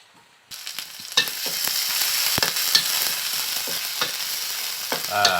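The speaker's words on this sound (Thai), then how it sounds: "ผัดพริกกระเทียมให้หอมก่อนนะครับ" Chili and garlic stir-frying in a pan for a Thai pork basil and spicy eel dish, a steady close sizzle with spatula scrapes and clinks that begins abruptly and continues without talk.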